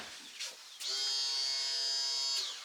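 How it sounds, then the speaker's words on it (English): Aft bilge pump on a 2022 Cobalt R6 Surf boat, a small electric motor whirring with a steady high buzzing hum for about a second and a half after a brief start-up, fairly quiet and close. "Aft bilge pump."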